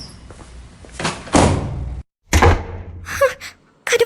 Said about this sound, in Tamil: கதவை உடைச்சு உள்ள வந்துருவாங்களா?